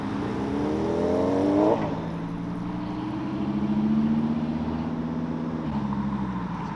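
A twin-turbo Audi R8 engine revs loudly and close by, rising in pitch, dropping back, then holding a steady drone before easing off, with no talking.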